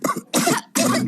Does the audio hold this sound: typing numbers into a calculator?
no